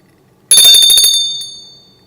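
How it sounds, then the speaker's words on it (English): Altar bells rung by a server during Mass, one bright shaken jingle of several small bells that starts sharply and rings out, then fades over a second or so, alone in a quiet church. "you ring the bells"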